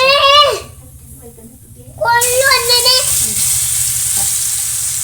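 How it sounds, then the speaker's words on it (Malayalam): Chicken frying in coconut oil in a pan gives a steady bright sizzle that swells loudly midway and holds, while someone talks over it near the start and again after a short pause. "ചിക്കൻ ഇതിലേക്ക് ഒന്ന് ഇട്ടെടുത്തിട്ടൊന്ന് ഫ്രൈ ആക്കി എടുക്കട്ടെ കേട്ടോ"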